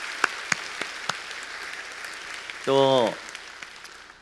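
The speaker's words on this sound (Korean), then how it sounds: "우리 하나님께 영광의 박수 올려드립니다" A church congregation at a Sunday service marking its 19th anniversary claps sparsely, with a few distinct claps spread out and a brief sustained tonal sound near the end.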